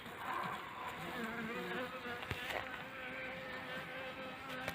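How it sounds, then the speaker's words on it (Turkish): Honeybees feed on fondant sugar in a hive, their busy buzzing a steady close drone that holds for several seconds with one brief tap partway through. "Arılarımız görüldüğü gibi fondan şekeri yiyorlar."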